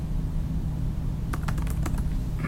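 Quick bursts of clicking keystrokes on a computer keyboard while renaming a view in Revit software, close and crisp, starting after a steady hum and continuing in a short rapid run.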